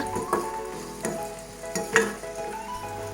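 Food frying in coconut oil over a medium-low flame, a steady close sizzle with periodic scrapes and clinks of stirring.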